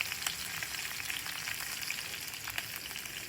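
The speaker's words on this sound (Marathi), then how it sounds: "आणि आता टाकायचं आहे आपल्याला याच्यात कढीपत्ता." Curry leaves and green chillies crackle and sizzle in hot oil in a home kitchen, a steady close spitting fry with bright pops scattered throughout, no voices.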